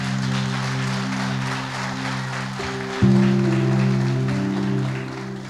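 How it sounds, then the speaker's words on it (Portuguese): Worshippers in an evangelical church service applaud, a steady broad wash of clapping that swells louder partway through, with sustained organ or keyboard chords playing underneath. "Pode aplaudir Jesus."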